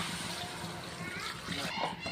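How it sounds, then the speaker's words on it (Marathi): Water pours into a pan for cooking Maggi noodles with masala, a soft splashing and trickling pour heard briefly under a nearby voice. "आता पाणी टाकून घेऊया"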